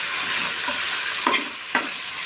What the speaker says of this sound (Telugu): ఆయిల్లోనే ఈ కాకరకాయలు బాగా మగ్గిపోవాలండి.